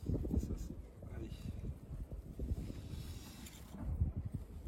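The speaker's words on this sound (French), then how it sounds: "Il y a énormément de vent aujourd'hui," Strong wind buffeting the microphone outdoors at a vanlife campsite, rumbling gusts that swell and ease throughout, loud and close.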